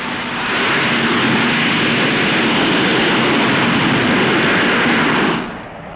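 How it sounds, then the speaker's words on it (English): A jet aircraft with inclinable lifting jets roars at Farnborough, a loud steady broadband blast holding for over five seconds before dropping away sharply near the end. "The lifting jets can also be inclined to give a forward thrust or directed forwards to act as a brake."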